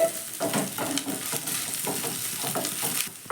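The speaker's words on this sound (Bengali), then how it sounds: "আদা রসুনটাকে পেঁয়াজের সঙ্গে ভালো করে আমি ভেজে নেব" Ginger garlic paste frying with onions in a pan, a continuous close sizzle with regular scraping stirs every half second or so, no voices.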